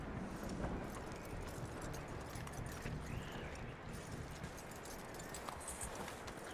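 Horse hooves clip-clop in a steady walking rhythm over a low background hum in the video game Red Dead Redemption 2, no talking.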